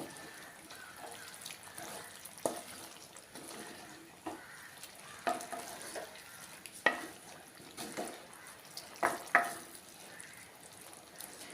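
Small pieces of tuna (choora) fish being stirred while they fry in a pan for a Kerala mezhukkupuratti, making soft sizzling under repeated scraping and clinking stirring strokes at irregular intervals, close and fairly quiet.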